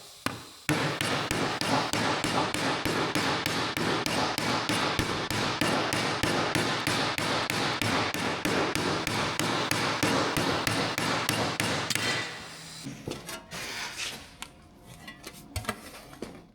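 Rapid, steady hammer blows ring on a sheet metal body panel supported by sand for about twelve seconds, then slow to scattered, lighter taps and clanks.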